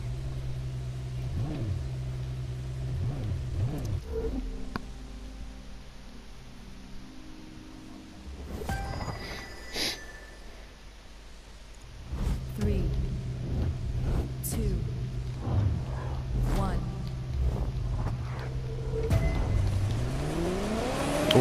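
Red Ferrari F40 racing around Laguna Seca in The Crew 2, its engine droning and revving through gear changes with tire squeal and passing cars, loud and continuous, dipping briefly mid-lap before climbing again.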